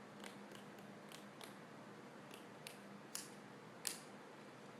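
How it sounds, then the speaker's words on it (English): Scissors snipping through thin plastic while making a fabric dollhouse purse, a few quiet, sharp, separate cuts close by in a hushed room. "And this plastic stuff is real easy to cut."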